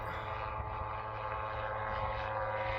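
An autogyro's propeller engine roars loud and steady as it throttles up and climbs away from a low pass over a turnip field, a continuous droning hum without talk.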